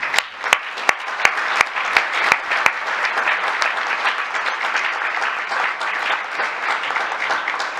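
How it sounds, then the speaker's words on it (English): Applause from the audience at a school board meeting for student musicians, opening with a few sharp separate claps that quickly merge into a dense, steady round of clapping that carries on evenly to the end. "Please give these students another round of applause as they perform"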